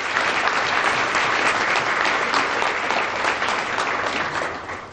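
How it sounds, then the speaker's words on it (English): A crowded mayor's breakfast audience gives a big round of applause for the speakers, dense, loud clapping that holds steady throughout, then begins to thin near the end. "How about another big round of applause for our speakers?"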